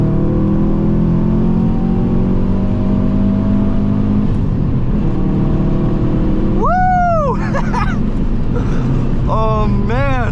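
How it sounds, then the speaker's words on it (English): A car on a hard full-throttle pull gives a steady, loud engine drone with a slowly climbing pitch, and excited voices shout over it near the end. "Let's do one last pull"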